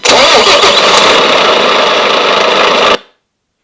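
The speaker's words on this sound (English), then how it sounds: "It's a bit of an old clackety truck." An RC car's engine sound, like an old clattery truck, cranks loudly, runs rough for about three seconds, then cuts off abruptly into silence.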